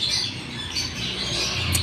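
Pet birds chirping indoors at home, a steady bright twittering at moderate distance with a few sharper calls, no voices.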